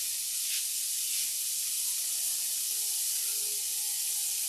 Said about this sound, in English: So the shrimp are sizzling away.